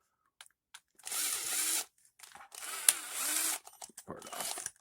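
Cordless power drill used while taking apart a 1/18 Bezgar HS181 RC car, firing in a few short bursts with gaps and faint clicks between them, close by.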